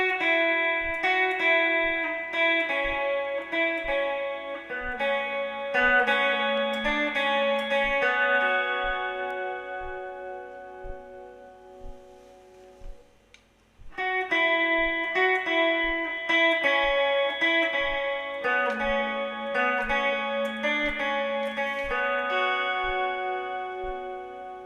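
Guitar playing a song, clean picked arpeggiated lines with a soft steady ticking pulse underneath, a short gap midway, then the figure repeating, alone without talk.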